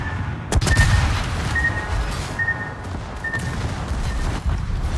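Secondary guns firing in World of Warships naval combat: a sharp boom near the start, then a steady rumbling barrage of distant shots with a faint repeating warning tone over the top.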